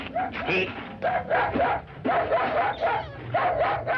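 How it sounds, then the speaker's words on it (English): A dog in a film barks and yips in rapid, repeated bursts at close range, loud and steady throughout with no talk over it. "tell him to take that howling mutt with him"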